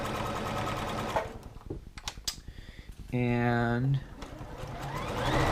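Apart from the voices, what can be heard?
Juki F600 sewing machine sewing at half speed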